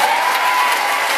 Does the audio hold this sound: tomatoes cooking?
no